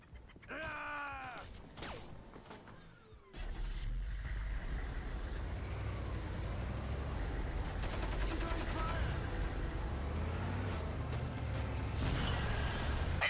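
Gunfire in Crysis Remastered: sustained, dense shooting and explosive rumble under continuous loud battle noise, with shouting voices at the start.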